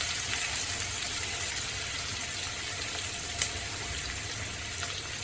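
Finely chopped medium-sized onion sautés with garlic and curry leaves for a dal and bottle gourd bhaji, a steady, close, dense sizzle throughout with one brief sharp tick partway through.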